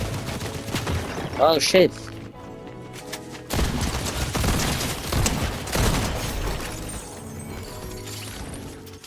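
Shotgun blasts go off in Fortnite among a burst of gunfire and crashing impacts from the game, loud and close, with a player swearing and talking between shots.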